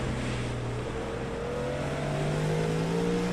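A GT3 race car in iRacing, its engine holding a steady droning tone that climbs gradually under throttle, fairly faint and continuous with no talking.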